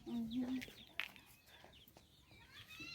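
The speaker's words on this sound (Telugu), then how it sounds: "ఇదంతా కోళ్ళు, కుక్కలు." Chickens in a village cluck and crow in short, scattered calls, faint and fairly distant, with people talking quietly in the background.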